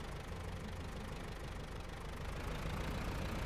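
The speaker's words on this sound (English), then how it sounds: "finally put my exhaust pipe back on, makes truck sound meaner with the temporary fix" Truck engine idling and rumbling steadily in SnowRunner after its exhaust pipe is refitted, a continuous loud low drone with a rough knocking edge, no talk over it.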